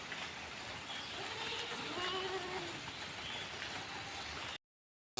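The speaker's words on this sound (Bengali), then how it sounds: "টপ টপ করে বৃষ্টি পড়ছে" Soft, steady rain patters continuously at a moderate distance, a gentle even hiss of drops on surfaces, ending in a brief cut to silence.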